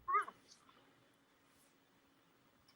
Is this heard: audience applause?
no